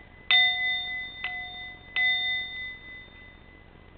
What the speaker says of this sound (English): my little bell